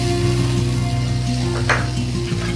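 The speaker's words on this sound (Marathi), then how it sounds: "हा कांदा मीडियम टू हाय फ्लेमवरती गोल्डन कलरचा म्हणजेच तांबूस कलर येईपर्यंत भाजून घ्यायचा आहे" Chopped onion frying in a pan over a medium to high flame, a steady close sizzle over a constant mechanical hum, with one brief scrape of a utensil.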